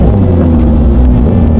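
A 1000 cc Kawasaki Ninja H2 motorcycle engine rumbles loud and steady, a dense deep drone with wind rushing past while riding on a road.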